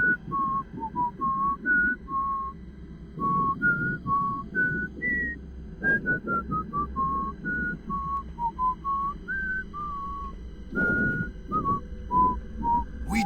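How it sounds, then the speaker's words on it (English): A person whistles the Jeopardy theme song, a clear, close melody of short, bright notes in a stepping tune with brief pauses between phrases, heard alone. "Should I start whistling the Jeopardy theme song?"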